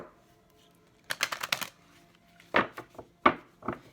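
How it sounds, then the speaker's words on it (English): Tarot cards are shuffled by hand in a few quick, close riffles and taps, short papery bursts separated by brief pauses in a quiet room. "Final shuffle."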